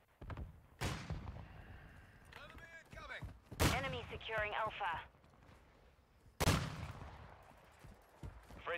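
Sniper shots in a video game crack out in three loud, sharp bursts, each decaying slowly, with chirping and whistling effects between them and no talk.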